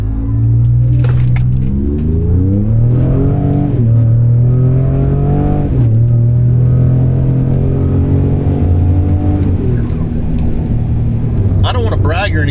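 A 2020 Ford Raptor fitted with bigger Garrett turbos and an upgraded intercooler accelerates hard from 0 to 60, its loud engine roaring up through gear after gear with rising pitch and brief drops at each shift, with talk over it.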